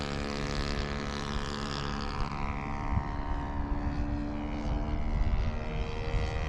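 A Hangar 9 10cc J3 Cub ARF model airplane powered by a Saito FG-11 engine flies on its maiden flight, the steady propeller drone holding loud and continuous with a slight swell in pitch and volume near the end.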